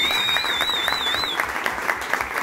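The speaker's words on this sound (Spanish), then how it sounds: "quiero un aplauso porque está haciendo un trabajo excepcional" Audience applause for a presenter at a masterclass in Mexico, a dense steady clatter of many hands filling the room throughout, with a sustained tone running beneath the first half.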